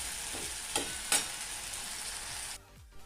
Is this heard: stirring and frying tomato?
yes